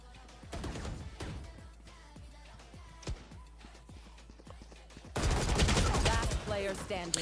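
Guardian rifle fire in the game Valorant, sharp single shots spaced through the first half, then a loud dense burst of overlapping game action at the end, with some game sound throughout.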